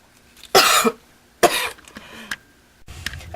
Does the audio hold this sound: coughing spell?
yes